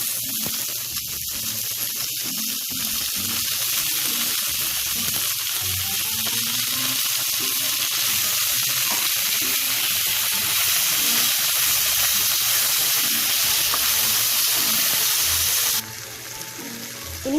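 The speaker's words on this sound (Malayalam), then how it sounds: "ഇതിലേക്ക് കറിവേപ്പിലയും തക്കാളിയും കൂടി ചേർത്ത് ഇട്ട് നന്നായിട്ടൊന്ന് വഴറ്റിയെടുക്കാം" Curry leaves and tomato sauté in hot oil for a poached egg curry, a continuous bright sizzle with crackling spits over a low background, running steadily and close up with no voices.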